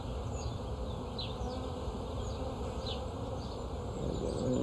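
Honeybees buzz steadily during an open beehive inspection, a dense continuous drone close by, with individual bees zipping past now and then, with no talking.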